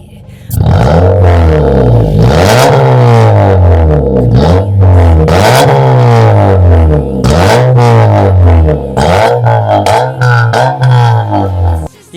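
A modified Honda Civic with a custom valvetronic exhaust revs repeatedly, loud and close, with the engine note rising and falling in a series of blips and no talk.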